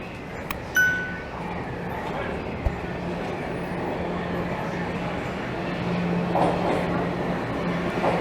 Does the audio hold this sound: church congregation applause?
no